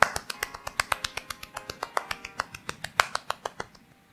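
One person claps alone close to the microphone, about two dozen crisp, sharp claps in a fairly steady rhythm, roughly five or six per second, with no talking.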